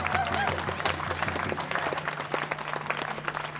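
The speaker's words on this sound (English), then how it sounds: "Let's have another round of applause for Oren Lyons." A crowd claps steadily, dense and continuous applause that holds at a fairly even level throughout.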